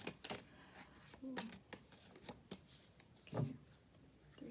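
A deck of tarot cards is shuffled by hand in quiet, fluttery riffling bursts, soft and close with faint room noise between the shuffles.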